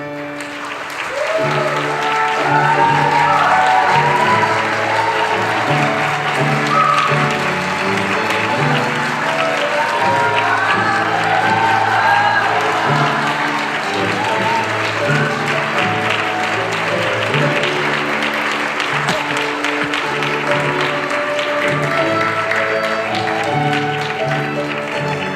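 Wedding guests applaud the groom's entrance, a sustained crowd clapping that holds loud and steady for the whole stretch with no pause.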